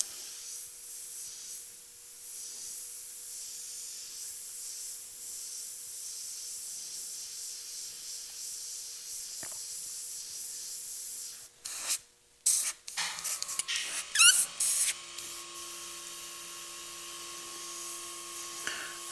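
An airbrush sprays black and grey paint onto a saddlebag in a steady, soft hiss that runs on for a long stretch, then breaks into short bursts and pauses near the end.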